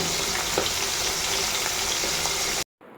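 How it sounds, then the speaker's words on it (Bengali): Fish fries in a pan of oil at home, a dense loud sizzle running steadily before cutting off abruptly near the end. "মাছ ভাজা তো হচ্ছে"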